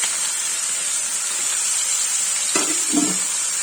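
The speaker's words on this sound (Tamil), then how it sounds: "இந்த சூடான எண்ணெயில வந்துட்டு நான் வந்து உருளைக்கிழங்க போட்டுறேன்" Potatoes frying in hot sesame oil in a pan, with a continuous bright sizzle and a couple of short bursts of bubbling near the end where pieces go into the oil.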